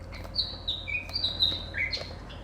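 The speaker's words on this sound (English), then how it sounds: "I'm sorry if you can hear the bird in the background." Several birds chirp and whistle outside a craft room, a quick run of clear, fairly close high tweets and short trills over a quiet low room hum.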